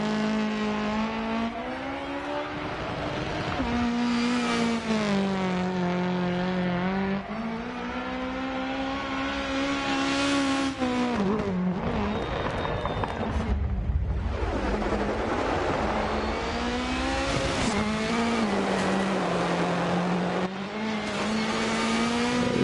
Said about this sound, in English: All the pops and everything on as the anti-lag kicks in